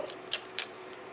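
Scissors snip through paper at a craft table where stitched kaleidoscope hexagon die-cut pieces are being worked, making two or three crisp, close cuts in quick succession against a quiet background.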